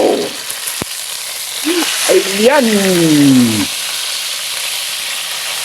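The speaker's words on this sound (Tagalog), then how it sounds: "Tignan natin naman ang ating nilulutong prito. Pritong lapu-lapu." Oil crackles and hisses steadily as grouper fries, while a voice calls out and sings a rising, falling tone over it.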